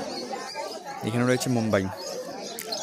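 Pigeons at a busy pigeon market, with a soft cooing in the middle while someone speaks nearby over a low background murmur.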